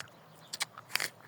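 Biting into a crunchy native apple, a few sharp crisp crunches close to the ear, the loudest snapping bite near the end, alone in a quiet setting.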